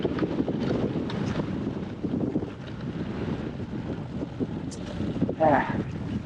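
Gusty wind buffets the microphone on an enduro mountain bike ride aboard a custom Carbon Wasp Truffle 120, a constant low rumble with brief rustles and a short clatter near the end.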